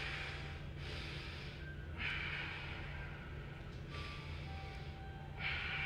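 Slow, audible breaths during a yoga hold in a power yoga session, a few long airy inhales and exhales spaced about two seconds apart over a steady low room hum, with no talk.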